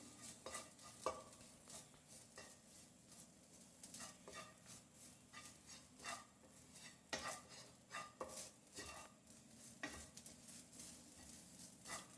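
Grated coconut roasting in a pan over a medium flame, stirred with repeated scraping and clattering strokes over a soft, steady sizzle.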